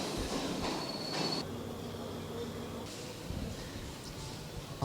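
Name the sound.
train at Colombo Fort station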